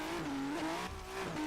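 Modded Ford GT in Forza Horizon 3 pulling a wheelie, a steady high engine drone wavering in pitch as it revs, close and loud, with some tyre noise and no talk.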